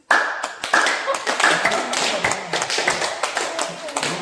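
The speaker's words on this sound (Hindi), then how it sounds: "ये जो ताली बजेगी" Hand clapping from a group at a village-level community training session, a run of sharp claps over about four seconds with some talk mixed in.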